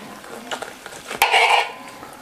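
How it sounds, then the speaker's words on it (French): A knife cuts slices from a slab of barbecued meat slow-cooked for seven hours, giving soft scraping and tapping with a sharp clack near the middle followed by a brief wet, sizzling rasp, fairly quiet and close. "on va le couper en tranches"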